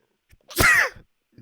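A single sharp human sneeze, close and loud, preceded by a faint intake of breath and followed by a brief quiet rustle, in an otherwise silent room.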